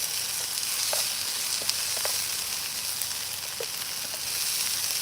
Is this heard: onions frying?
yes